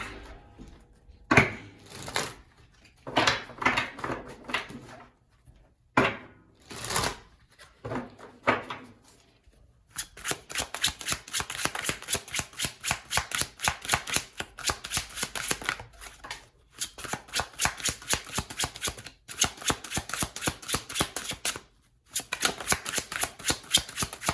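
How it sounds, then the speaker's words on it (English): Oracle cards being handled and shuffled at close range, first loose intermittent riffles and slides, then a long stretch of fast, steady papery flicking with a couple of brief breaks. "let me pull some other oracle cards"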